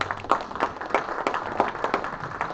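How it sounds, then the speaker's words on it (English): An audience at a Liberty Tea Party Patriots meeting claps after an invocation in a rapid, uneven burst of applause from a modest crowd that holds steady. "Earlier, clapping for an invocation."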